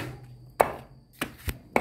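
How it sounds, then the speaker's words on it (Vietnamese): Forest lingzhi mushroom is chopped by hand with a knife: four sharp, close, irregularly spaced thuds on a board, with quiet gaps between them and no talking. "đây đang băm này băm thủ công các bạn ạ"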